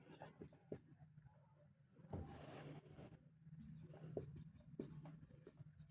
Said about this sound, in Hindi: तो इसको लिख देते हैं